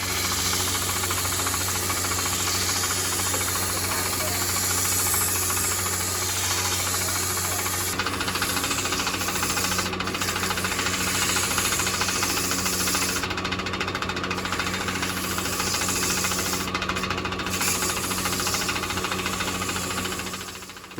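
A power sander works over a wooden decorative vase, a steady loud whirring hiss with a constant motor hum and slight shifts in pitch as pressure changes, running continuously without speech.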